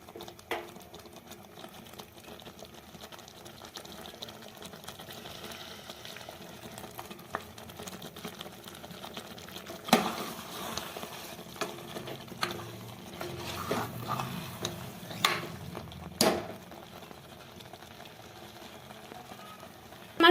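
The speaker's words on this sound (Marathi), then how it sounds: "बघा चांगल्या व्यवस्थित त्याला परतून घेते थोडं गॅस फुल करते" Green masala chicken curry is sautéed in a pan over full gas, with a steady bubbling sizzle and occasional scraping clatters from stirring, close by.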